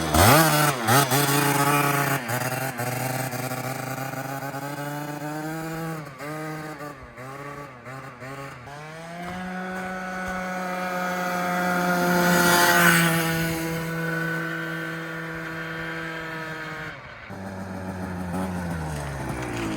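A modified MBK 51 Magnum XR moped's small two-stroke engine runs loud and close, blipped repeatedly in quick revs, then held at a high buzzing whine that swells and eases.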